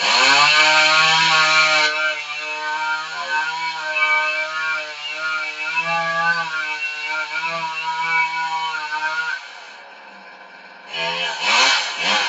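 A chainsaw cuts a notch into the bottom of a tree trunk, its engine whining loud and close under load with pitch shifts as it bites, then dropping to a lower idle before revving up again.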